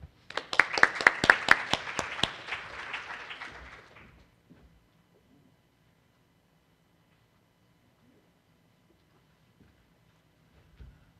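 An audience at a 2013 talk on oral disease in the elderly breaks into a burst of clapping for about four seconds, fairly close and dense, then falls silent apart from faint room noise.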